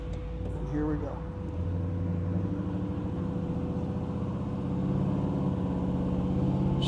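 A 1955 Chevrolet Bel Air with an LS engine swap and 4L80E transmission runs under load on its first drive, its engine a low, steady rumble that swells slightly as it pulls, with people talking over it nearby.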